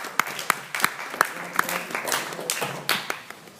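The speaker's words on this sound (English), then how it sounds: "So give yourselves a round of applause." Scattered applause from an audience at an evening speech event, a handful of sharp, close claps standing out over softer clapping from the room, with some murmuring voices.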